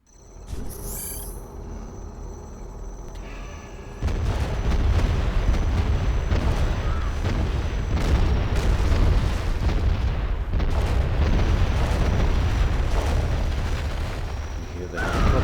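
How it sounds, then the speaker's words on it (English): Battle in the strategy game Command & Conquer Generals Zero Hour, with a rapid cluster of booming explosions and dense rumble that starts abruptly after a quieter stretch and carries on loud and continuous, with helicopter noise likely blended in. "You hear the helicopters and the explosions."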